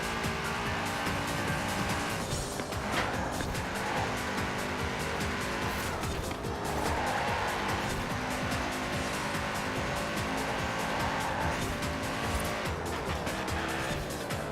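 Audi RS6 in Forza Horizon 4 runs at sustained high revs through the whole stretch, with gear shifts marked by brief dips and tires squealing and scrubbing in corners; loud and continuous, no talk.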